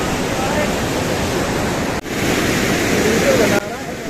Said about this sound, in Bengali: জলের কি প্রচণ্ড আওয়াজ।